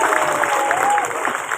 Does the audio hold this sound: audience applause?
yes